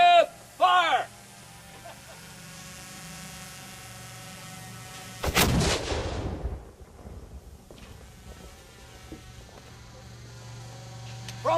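A historical cannon fires at Fort Loudoun, a single loud broadband boom that cuts through a steady background hum and rolls off over about a second, with shouted commands just before.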